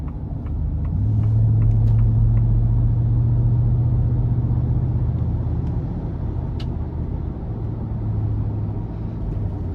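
A 2023 Ford F-250 Tremor pickup with the 7.3 engine accelerates in eco mode, giving a steady low engine rumble with a droning tone that rises and then holds, heard from inside the cab with no talking.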